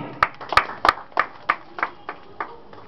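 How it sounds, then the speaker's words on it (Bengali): Applause for antakshari performers: about ten distinct claps from a few hands, sparse and uneven rather than a full crowd ovation, fairly close, with no talk over them. "শ্রেয়া ব্যানার্জি ওই জন্য জোর হাততালি।"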